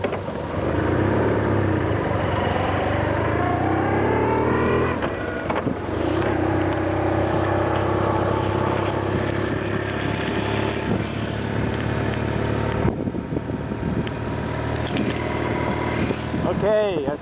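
Motorcycle engine droning steadily while riding through the Black Hills, loud and continuous with wind rumble and shifting engine pitch across the whole stretch.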